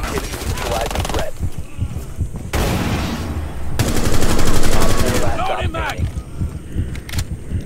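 Video game gunfire: dense bursts of rapid automatic shots, loud and close, come in several runs separated by brief gaps, with voices talking over and between the bursts.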